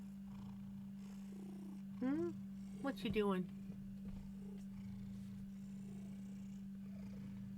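A cat purrs steadily and close up, breaking into a few short chirpy trills, while a person speaks briefly over it.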